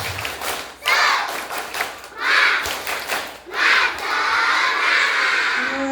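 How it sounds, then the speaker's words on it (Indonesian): Elementary schoolchildren at an Isra Miraj school event doing a rhythmic spirit clap, loud bursts of group clapping in patterned rounds, mixed with crowd noise and ending in sustained cheering. "Tepuk semangat"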